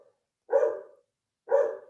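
A dog barks twice in the background of a virtual meeting, two short separate woofs about a second apart, moderately loud with no talking over them.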